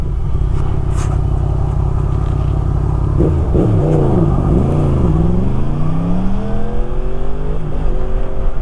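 A motorcycle engine idles loud and close, then revs hard several times in quick sweeps that rise and fall in pitch before settling back to a steady idle.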